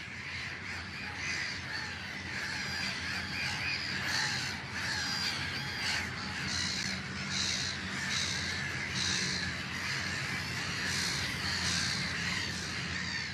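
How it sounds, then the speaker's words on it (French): A flock of black-headed gulls calls near a dam, harsh repeated cries overlapping one another above a constant rushing water background. "Les mouettes rieuses, elles, cueillent leur proie hébétée dans les remous de surface."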